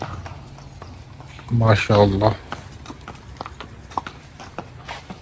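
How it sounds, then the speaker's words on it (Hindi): Horse hooves clop irregularly as a horse is led out at a horse farm in Jhelum, Pakistan. The hoof sounds run under a man's speech and brief crowd voices. "माशाल्लाह चेक करें ये घोड़ा"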